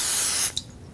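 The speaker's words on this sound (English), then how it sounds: "So the first thing you want to do is spray a microwavable mug." A can of cooking spray sprays a short burst into a mason jar used as a mug, a loud steady hiss lasting about half a second that cuts off, followed by a faint clink.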